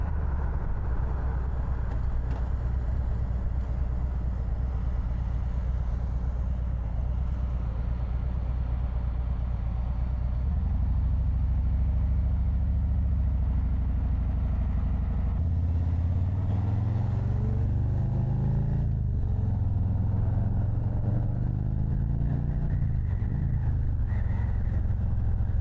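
A motorcycle riding through traffic on Florida roads, its engine droning continuously and loudly with rising and falling revs and wind rush, close throughout with no talk.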